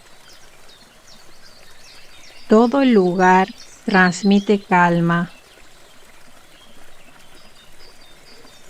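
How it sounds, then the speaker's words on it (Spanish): Water moves gently in a garden pond, a soft, faint trickle running steadily in the background while someone speaks calmly over it. "El agua se mueve suavemente"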